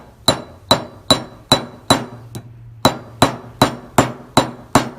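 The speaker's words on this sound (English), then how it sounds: "same thing with your riveting hammer" A riveting hammer taps a rivet joining a metal blank to a leather cuff, about a dozen sharp, ringing metallic strikes at a steady, unhurried pace, close and clear with no talking.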